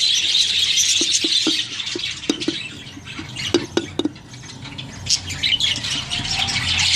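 Budgies in a breeding colony nest box give a dense, close chorus of shrill squawks and chattering chirps, with sharp scratchy calls and rustling throughout.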